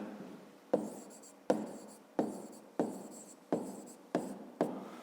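Pen on paper writes out a fifth-grade geometry solution by hand: seven or so scratchy strokes in a fairly even rhythm, each opening with a crisp tap, close and quiet, with no voice.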